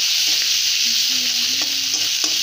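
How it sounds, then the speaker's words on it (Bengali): Onions sizzle and fry in hot oil with bay leaf and cumin, a steady bright hiss with a few soft stirring clicks, close and alone. "3টা পেঁয়াজ একটু ভাজবো"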